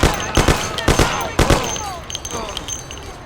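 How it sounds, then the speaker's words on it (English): Gunfire rings out in a mafia film scene as a quick burst of loud, close shots followed by a few scattered reports, with echoing tails and some shouting mixed in. "Shoot the bastard!"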